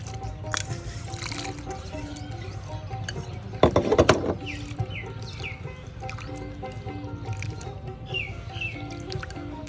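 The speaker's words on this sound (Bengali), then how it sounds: "পরিষ্কার পানিতে চিংড়ি মাছটা ধুয়ে নিচ্ছি" Shrimp being washed by hand in a bowl of clean water: steady sloshing and dripping, with a louder splashing burst partway through, close and moderately loud.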